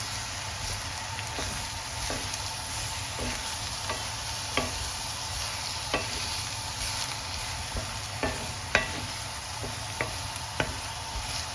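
Bitter gourd sautéing in oil over a high flame for a pickle, a steady bright sizzle broken by regular light scrapes and taps of a spoon stirring the pan, close and even.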